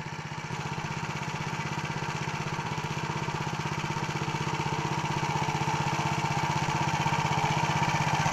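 A Motor Sich walk-behind tractor engine runs steadily while hilling potatoes in a field, a loud, even single-cylinder chug close by with no talking.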